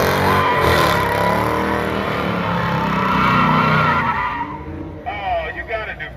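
Car tires skid and squeal loudly as the car spins in a street meet, engine revving under a long continuous screech that fades near the end, followed by bursts of shouting nearby.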